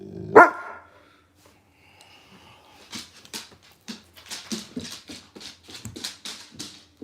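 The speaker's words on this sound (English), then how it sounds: "I've got a dog barking." An indoor dog barks wanting to be let out: one sharp close bark, a pause, then a run of rapid, loud yips and barks with whimpering tones mixed in.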